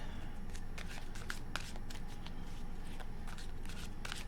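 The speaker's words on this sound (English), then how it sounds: "let's get one more shuffle" Tarot cards are shuffled by hand in a quiet room, producing a run of soft, rapid papery flicks and riffles that come in quick irregular bursts.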